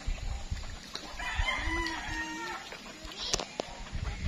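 Chickens in a rural province in the afternoon, a rooster crowing once with clucks and scattered farmyard noises around it, moderately close outdoors.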